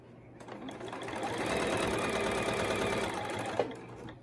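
A sewing machine stitches a scrunchie seam in one steady, continuous run, its close mechanical hum building slightly and holding, with no talking.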